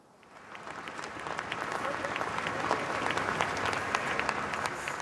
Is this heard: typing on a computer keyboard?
no